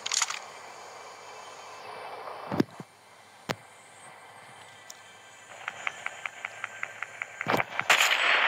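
Firecrackers going off in the Fortnite video game: a few sharp, loud cracks spaced apart, then a rapid run of small popping bursts ending in bigger bangs, with no speech over them.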